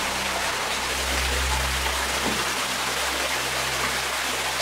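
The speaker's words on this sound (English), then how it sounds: "Here's the waterfall." Water from a waterfall pours down inside a large cave, a steady broadband rush with a low rumble that stays constant and fairly loud throughout, with no voices.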